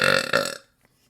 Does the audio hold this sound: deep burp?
yes